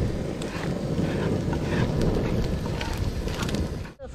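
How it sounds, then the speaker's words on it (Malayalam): Strong wind at a tent campsite in the rain, blowing as a loud, constant buffeting rumble against the microphone that fades sharply at the very end. "നല്ല കാറ്റുണ്ട്, എൻ്റെ അടുത്ത് കാറ്റിൻ്റെ അവസ്ഥ ഒന്നും പറയാനല്ല."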